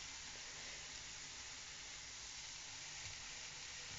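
Mushrooms for a carbonara sauce cooking in a pan, a steady, even sizzle and hiss throughout, close and faint, with no talk.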